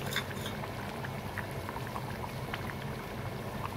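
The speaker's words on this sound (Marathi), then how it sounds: "बघा मस्तपैकी उकळी आली बघा" A pot of cowpea and potato curry bubbles steadily at a rolling boil, a continuous close hiss with soft popping.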